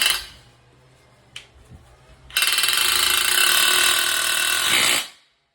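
A power drill bores into plasterboard for a bathroom partition renovation, starting after a few faint clicks and running as a steady loud whine for about three seconds before stopping abruptly.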